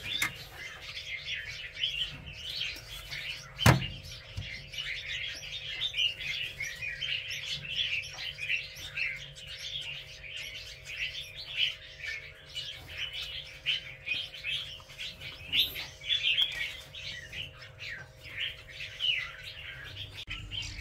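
Dense, continuous high-pitched chirping from a cluster of baby birds in a hot nest on a farm, steady and fairly close, with a brief sharp click near the start.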